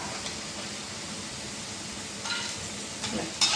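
Fried ginger scooped from a pan into a vessel, with a steady sizzle of frying under soft scraping and a few sharper clinks toward the end.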